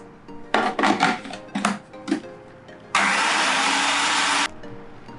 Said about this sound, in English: we are going to mix both the powders together in a mixer grinder